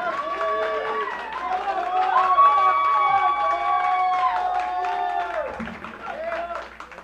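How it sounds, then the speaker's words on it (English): A big live studio audience cheers, whoops and applauds a rock band in a 2017 TV studio show; steady crowd noise with shouts, fairly loud and continuous, tapering near the end. "they ain't cheering for me. They're cheering for these guys"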